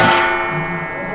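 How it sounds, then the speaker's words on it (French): A wall clock in a house with a library area sounds one resonant chime that decays quickly, close by and alone. "l'horloge aussi qui fait ding ding dong"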